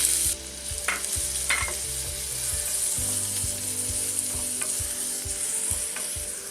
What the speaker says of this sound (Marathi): 1 चमचा तेल तापलंय, कांदा घालूया